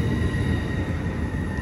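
A Class 395 empty stock train pulls slowly into Ashford International, its steady rolling rumble and faint wheel squeal close and loud, with a constant high whine over the low roar and no voices.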